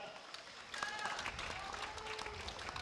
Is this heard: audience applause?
yes